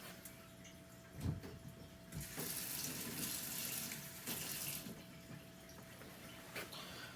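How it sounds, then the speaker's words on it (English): Water poured from a measuring container onto crushed calcium carbonate: a steady, fairly quiet splashing pour lasting several seconds, with a couple of brief knocks of the container. "I'm going to add a little bit of water to it"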